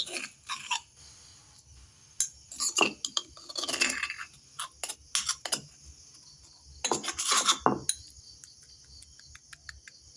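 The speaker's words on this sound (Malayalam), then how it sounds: "നമുക്ക് കല്ലേ വെച്ച് ചതയ്ക്കാം" Chillies crushed with a stone for a chilli chutney, giving rough grinding rasps that come in uneven bursts with short quiet gaps, close and fairly soft.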